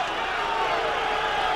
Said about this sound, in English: The crowd not liking that.